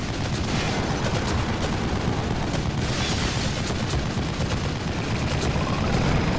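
Loud, continuous gunshots and explosive booms from the survival horror game The Evil Within, a dense barrage of repeated shots over a heavy rumbling roar with no voices.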